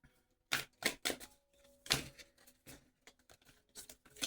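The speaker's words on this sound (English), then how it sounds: "I swear it's not my first day shuffling." A deck of cards shuffled close up in a quiet room, in quick papery bursts of riffling and snapping separated by short pauses.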